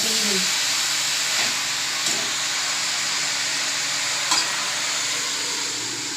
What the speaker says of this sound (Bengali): আবার এটা একটু নেড়ে নিয়ে ঢেকে দেব